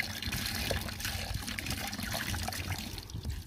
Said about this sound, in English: So first we're gonna need a vinegar. So we're gonna pour it in there.